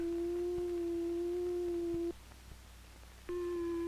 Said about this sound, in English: Each oscillator produces a different kind of sound with a different wave form. This is a sine wave.